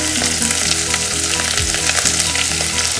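Diced potatoes, capsicum, carrot and green chilli sizzle loudly in a hot pan for cracked wheat upma, a continuous crackling fry with stirring and no talking.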